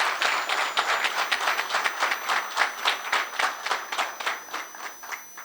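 A crowd at a talk event applauds for two guests, with dense, loud, sustained clapping in slightly pulsing waves throughout.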